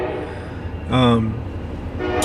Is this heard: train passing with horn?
yes